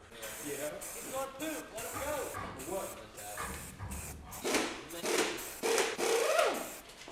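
Short bursts of aerosol spray hiss in repeated pulses, close by, with a voice talking underneath.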